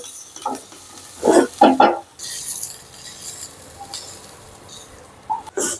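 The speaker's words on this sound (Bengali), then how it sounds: "হালকা তেলে পেঁয়াজ এবং রসুন দুটো ভেজে নিয়ে আমি নামিয়ে নিচ্ছি।" Onion and garlic frying in a little oil for potol vorta, with bursts of sizzle and scraping stirs near the start and again at the end, close and fairly loud with quieter crackle between.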